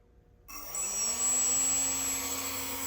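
Electric motor driven by an ESC spins up a propeller on a thrust test stand, starting abruptly from silence and rising to a steady, loud whirring drone with a high whine held over it.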